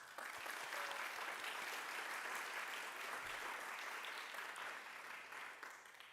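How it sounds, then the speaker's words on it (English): Applause from the audience at a Latino poetry anthology celebration, an even wash of many hands clapping, fairly distant and soft, holding steady before tapering slightly at the end. "Please give them a round of applause."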